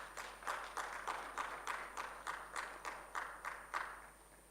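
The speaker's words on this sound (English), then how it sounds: "May we please clap for her as she walks up to the stage." Audience applause at a microfinance technology summit in a convention center, a steady run of clapping with rhythmic bursts swelling and fading over several seconds, moderately distant and without talk.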